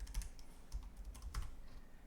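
Quiet typing on a computer keyboard, a few soft scattered key clicks in a short burst, faint and close with no voice.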